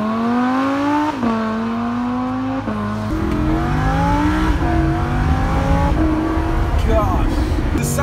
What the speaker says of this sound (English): the sound of the exhaust is crazy